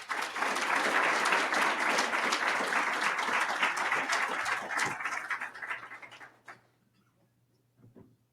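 An audience applauds to welcome Alberta's Minister Myles McDougall and Dr. Mintz to the stage, a full, sustained burst of clapping that thins out and fades to near silence after about six seconds.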